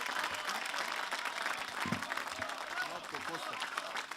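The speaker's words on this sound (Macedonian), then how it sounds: "Би ве замолил за уште еден громогласен аплауз за господина Владко Стојков" A large rally crowd in Gostivar claps loudly and continuously for a guest speaker, a dense, sustained roar of hands with crowd voices and cheers mixed in throughout.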